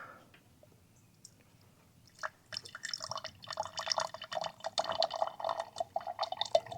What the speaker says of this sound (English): I'm going to turn it on, fill up the glass, and we'll have a taste.